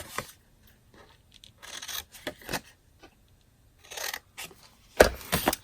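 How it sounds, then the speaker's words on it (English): Scissors snip through paper up to a score line on a craft box in short, close bursts of cutting and rustling, separated by brief pauses. "The rest of these I'm just going to cut up to the score line."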